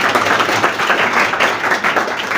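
A crowd applauds for a girl who has qualified in a competitive exam, with sustained, loud, even clapping from many hands that fills the whole stretch without talk.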